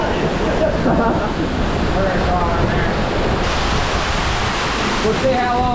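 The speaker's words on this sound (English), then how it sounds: "that's a big waterfall, isn't it?" A large backyard waterfall plunging deep underground roars in a loud, continuous rush, with heavy wind buffeting the microphone and faint voices half buried beneath the noise.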